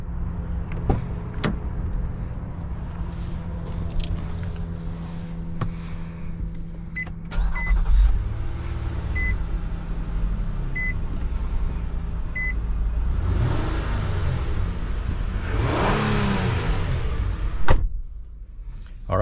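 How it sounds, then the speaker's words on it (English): A 2022 Nissan Murano SV in magnetic black on a test drive, with door and power window noises, a few beeps and a steady engine and road hum that swells as it pulls away, heard without talk. "let's go ahead and take it on a test drive and see how it does"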